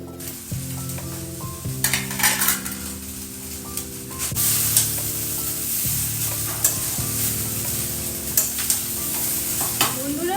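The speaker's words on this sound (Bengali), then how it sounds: "এবার ভাতগুলো দিয়ে দেবো ভাজা ভাজা হয়ে গেছে" Cooked rice fries in a hot pan, hissing and sizzling continuously while a utensil stirs and clinks against the metal, with steady music playing underneath throughout.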